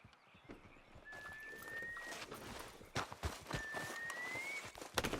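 Horse hooves clip-clop at a walk in the Red Dead Redemption 2 video game, soft irregular footfalls with faint outdoor ambience and a couple of thin whistling tones.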